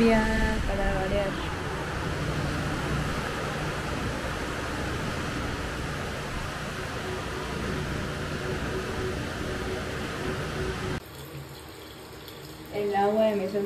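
Water pours steadily from a tap at a rural health centre in Ecuador in a continuous close rushing hiss, then cuts off near the end as a voice speaks briefly.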